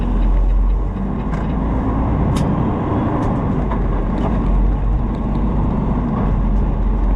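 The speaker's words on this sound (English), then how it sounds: "There's way too much traffic right here." Steady road traffic on a busy stretch near a bridge, a continuous loud rumble of passing cars and heavier vehicles with no clear gaps, heard up close from the roadside.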